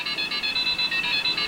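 A video game telephone rings with a steady electronic warble, repeating in quick even pulses, loud and close with no talk over it.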